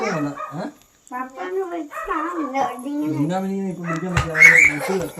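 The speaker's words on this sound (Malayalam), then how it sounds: "കണ്ടോ നിങ്ങളുടെ ഒച്ചപ്പാട് കേട്ടത് പട്ടി ഉരയ്ക്കണ കണ്ടോ?" A dog barks and yelps close by while people talk over it, the barking growing sharper toward the end.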